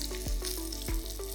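Vegetable cutlets shallow frying in one or two spoonfuls of oil, a steady close sizzle with a few soft pops and bubbling bursts, no voices.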